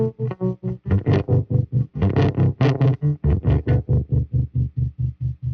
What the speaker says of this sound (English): I've got this really great tremolo that built into this amp that I love using